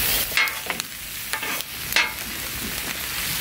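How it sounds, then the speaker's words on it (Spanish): Shrimp sizzle loudly in a hot pan for fajitas, a steady bright hiss broken by a few sharp clinks and scrapes of a utensil, close and continuous. "Ya toca los camarones."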